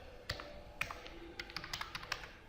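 Java code being typed on a computer keyboard, a quiet run of irregular close key taps that quickens into a rapid cluster toward the end, with no talking.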